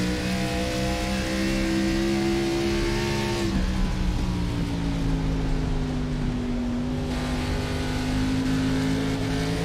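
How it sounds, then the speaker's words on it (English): A race car in a sim racing game at Rockingham hums at a sustained high-revving engine note. The pitch drops when the throttle lifts into a corner, then holds steady and climbs again, loud and unbroken with no talk. "Just listened in to some of the throttle work there by Bradley Burke"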